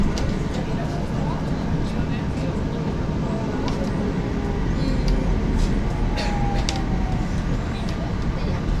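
Steady rumble and rolling noise inside a moving local train in Japan, with continuous low track and motor roar, faint rattles and occasional squeaks, and indistinct voices mixed into the din.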